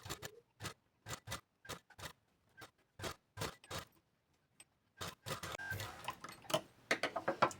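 A sewing machine stitches a blouse seam in short, rhythmic bursts of rapid ticking separated by pauses, then runs in a denser, longer run of stitching toward the end.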